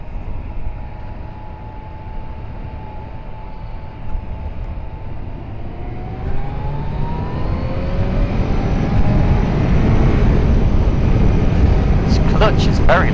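Steady broadband wind rush builds as a 2017 Kawasaki Z900 motorcycle gains speed, roaring louder and fuller over time while the engine's tone rises beneath it, with a few brief ticks near the end.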